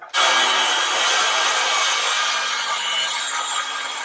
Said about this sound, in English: the cordless circular saw is definitely cutting it, but it's slow